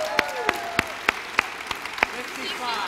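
A handful of scattered, fairly close claps sound from a church congregation honoring a couple's 65th wedding anniversary, mixed with murmuring voices.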